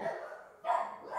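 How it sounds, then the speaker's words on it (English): A pet dog indoors lets out two quiet barks about half a second apart, faint and somewhat distant, with no talk over them. "Jetty, why are we barking, baby boy?"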